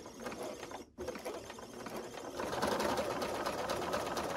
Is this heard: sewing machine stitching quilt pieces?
yes